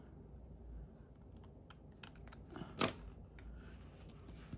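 A stamp edge cutter trims the edge off a faux paper stamp with a single crisp snip near the middle, surrounded by faint tapping and handling clicks in a quiet room.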